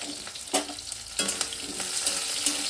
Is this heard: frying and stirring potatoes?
yes